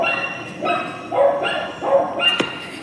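Dogs in a neighbouring dog pen bark in a recorded playback, several rough barks and yips in a loose rhythm, moderately loud with some whimpering, over a faint background hum.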